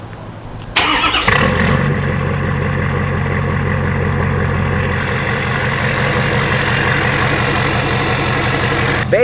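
Ford Powerstroke diesel truck engine cranking to life and then settling into a loud, steady, rumbling idle with a rattling clatter, heard up close and alone.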